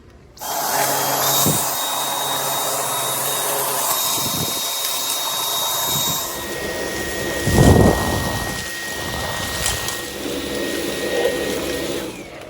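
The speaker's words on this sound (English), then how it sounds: "So the boost setting will now be evaluated for the Dyson V11." A Dyson V11 cordless vacuum cleaner runs on its boost setting, a steady loud whining roar with a high tonal whistle that holds throughout, with a brief surge partway through.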